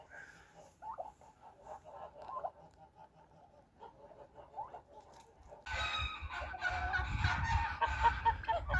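Geese, including an old goose and young geese, honk and cackle, first a few scattered calls, then a loud crowded burst of many overlapping honks close by.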